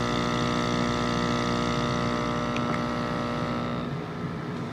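An Active Aqua air pump for a hydroponics setup runs with a steady, close electric hum and buzz, a constant droning tone that holds evenly throughout and eases off slightly near the end.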